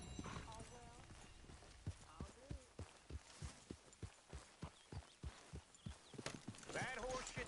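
Horse hooves in Red Dead Redemption 2 clop in an even walking rhythm, moderately close, with brief voices and game sounds at the start and end.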